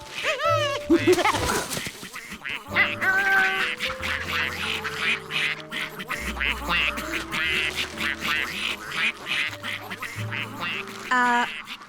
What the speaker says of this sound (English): Feed the ducks.